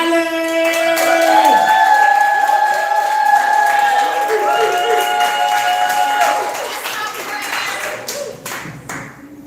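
Crowd at a poetry slam claps and cheers loudly as a poet walks to the stage. Sustained whoops and shouts sit over steady applause, then the cheering thins and sharper scattered claps finish it off.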